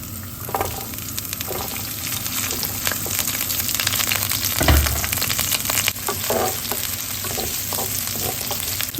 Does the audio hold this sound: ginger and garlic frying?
yes